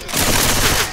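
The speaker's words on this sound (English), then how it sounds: "Hey, I'm reloading." A weapon reloading in a shooter game gives a loud, close burst of ratcheting mechanical clicks and metallic rattling lasting about a second, alone without talk.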